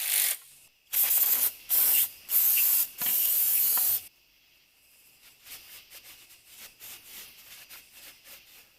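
Cleaner sprayed onto a car engine part during an LS engine swap on a Firebird: four or five close, loud hissing bursts from a spray bottle in the first four seconds, followed by quieter rubbing and handling noises.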